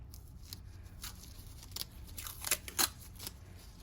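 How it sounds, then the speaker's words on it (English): Medical tape being pulled and torn for an IV dressing, a series of short, close, crisp ripping and crinkling bursts over quiet room tone, strongest near the end. "And then you can get a piece of tape."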